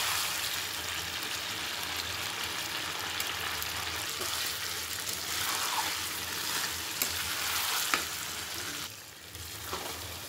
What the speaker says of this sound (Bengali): খাসির মাংসগুলো কষানো হয়ে এসেছে প্রায়।